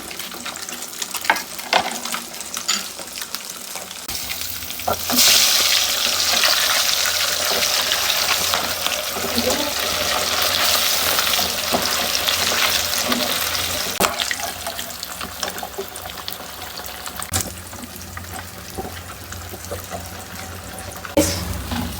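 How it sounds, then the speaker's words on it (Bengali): Pieces of Katla fish fry in hot oil in a pan, giving a steady broadband sizzle that swells after a few seconds and carries on evenly, with no voices. "এই তো দেখো আমাদের মাছ ভাজা শেষ"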